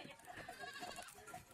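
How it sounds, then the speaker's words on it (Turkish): Goats herded home by a drone on a farm, bleating repeatedly in short calls over a steady background hum, with a faint voice now and then. "Drone'la çevirdiğimiz keçiler eve geldi."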